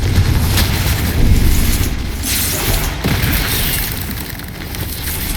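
A Confringo explosive spell blasts repeatedly in Hogwarts Legacy combat, loud booming bursts at about 2 and 3 seconds over a dense, rumbling bed of battle noise.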